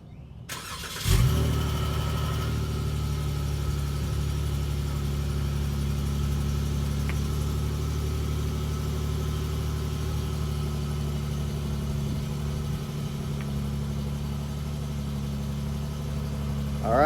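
A 2021 V6 Dodge Challenger with stock exhaust cranks and catches with a burst on a cold start, then settles into a steady, deep idle that hums on without change.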